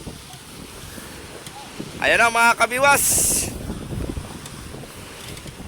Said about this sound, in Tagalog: maalon pa rin, malakas ang hangin